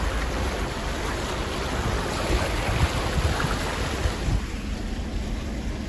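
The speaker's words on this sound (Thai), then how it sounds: "ผมกำลังขับรถไปนะครับ ขับช้าๆนะ" A car drives slowly along a flooded road near Ban Nong Hin in Khon Kaen, Thailand, its wheels churning a steady loud wash of water under a low rumble, with no talking.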